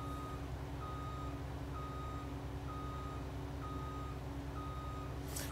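Reversing beeps from a farm vehicle in Landwirtschafts-Simulator 19, while harvesting maize with a rented Claas Lexion: an evenly spaced, steady series of about six to seven short tones over a constant low engine drone, with no talking.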